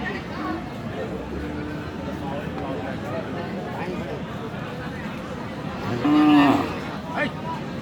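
Cattle low at a busy livestock market in Dinajpur, with one clear drawn-out moo near the end over a bed of crowd chatter and people talking.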